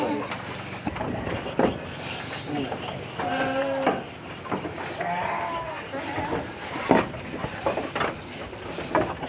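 Goats and sheep on a large livestock farm in former transmigration land at Rimbo Bujang bleat several times at moderate distance, mixed with people talking nearby.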